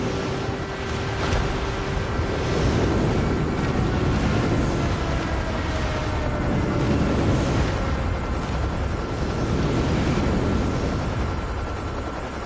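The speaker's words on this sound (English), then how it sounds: "Enemy airstrike incoming." An enemy airstrike in a first-person shooter game, a dense, continuous roar of aircraft and rumbling explosions that stays loud and steady throughout, with no voices.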